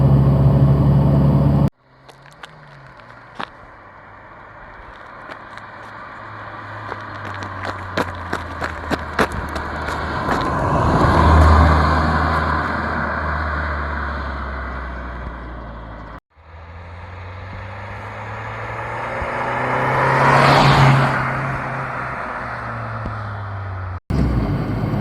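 A Fiat 500 with the 1.2 8V engine driving on Polish mountain roads, its engine droning steadily and rising and falling in pitch as it pulls, with a downshift mid-run and a few brief clicks near the start.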